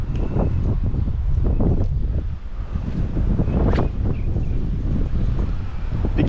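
Strong gusts buffet the microphone during an ultralight bluegill fishing outing, a continuous loud rumbling roar with faint water noise beneath it.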